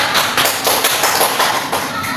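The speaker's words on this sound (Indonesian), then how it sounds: "beri tepuk tangan kepada kelompok 2" Classroom applause for a student presentation group during a microteaching session, a dense steady patter of many hands clapping at close range for a couple of seconds.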